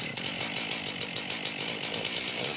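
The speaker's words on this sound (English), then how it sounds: "he gets that chainsaw" A chainsaw carving wood runs continuously at high revs, a harsh buzzing drone with slight rhythmic fluctuation, moderately distant and without talk.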